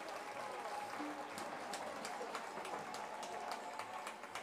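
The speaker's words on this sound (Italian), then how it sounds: "Un applauso." A small crowd at a live streamed outdoor event in the Veneto applauds for a man named Mirko, a faint, steady patter of clapping continuing throughout with murmured voices beneath.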